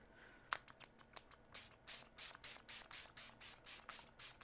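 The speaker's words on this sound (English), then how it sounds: "now this is the part where I put my setting spray" Physician's Formula setting spray misted onto a face: a quick click, then about a dozen short, crisp hissing pumps in a steady rhythm, close and fairly quiet.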